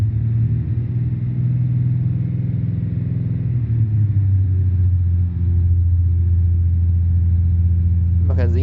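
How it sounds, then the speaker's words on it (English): A car engine hums steadily at idle, a loud low drone that dips in pitch partway through and settles into a constant rumble. "So we have the engine running."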